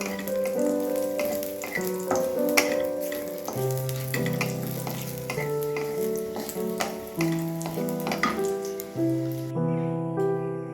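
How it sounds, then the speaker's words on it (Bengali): Urad dal dumplings fry in hot ghee with a steady sizzle and bubbling under a bed of tonal music, moderately quiet and close. "ঘি গরম হয়ে গেছে, এবার আমি কলাইয়ের ডালের বড়িটা ভেজে নিচ্ছি।"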